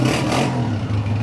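A Honda CB125F motorcycle engine, a 2014 model in well-maintained condition, runs right after a kick start with a steady low idle that carries a light mechanical clatter.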